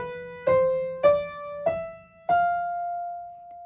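Four piano notes climb one after another on the lines of the treble clef, each struck cleanly and left to ring, the final tone sustaining and fading slowly in a quiet room.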